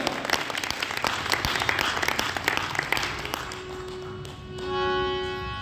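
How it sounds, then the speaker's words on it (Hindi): An audience claps loudly at an Arya Samaj Vedic bhajan gathering, a dense burst that fades after a few seconds into a held musical tone, with no voices. "इसलिए एक बार अपने लिए जोरदार ताली बजाओ, जोरदार ताली"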